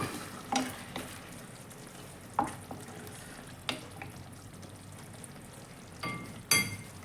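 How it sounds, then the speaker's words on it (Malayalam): Chilli chicken gravy thickened with cornflour being stirred in a pan, with a few scattered spoon scrapes and clinks over a quiet, steady background and no talking. "നല്ലപോലെ ഇളക്കി കൊടുക്കുക അപ്പോൾ നമ്മുടെ"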